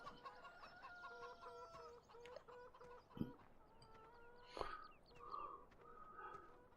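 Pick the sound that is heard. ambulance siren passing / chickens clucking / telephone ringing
chickens clucking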